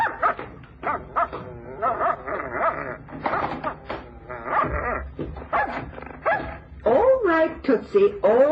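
Small dog named Tootsie barking and yipping indoors in a radio drama scene, short sharp barks scattered among several voices speaking over it.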